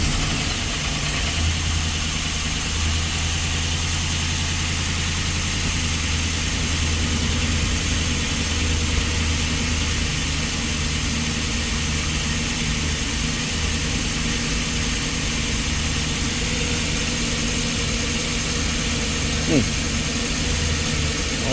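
A car engine with a dead ignition coil and worn spark plugs idling at a steady, low drone for a long stretch, a faint brief knock near the end, with no speech over it.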